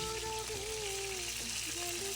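Crab pieces fry in hot oil, a steady crackling sizzle running without a break, close and moderately loud, with no voices over it.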